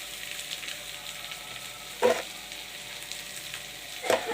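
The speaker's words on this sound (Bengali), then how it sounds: "আলু পেঁয়াজগুলো দিয়ে সবগুলো দিয়ে আমি একটু ভাজা ভাজা করে নেব।" Potatoes fry in a pan with chopped onion, green chilli and salt, giving a soft, even sizzle broken by two sharp stirring scrapes.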